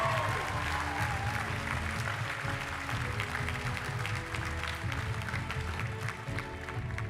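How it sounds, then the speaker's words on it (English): A graduation audience applauds with a sustained wash of clapping, even and moderately loud from start to finish, under faint crowd murmur. "Let's give them a big round of applause for the great work that they have done."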